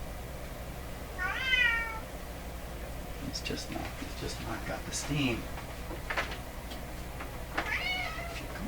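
A cat meowing from behind a door, with two clear drawn-out meows several seconds apart, heard under someone talking, along with a few faint knocks and rustles.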